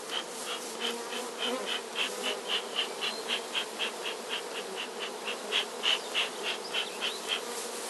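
Steady buzzing of many honeybees close by in a beehive, with a rhythmic pulsing rise and fall in the hum throughout, no voices.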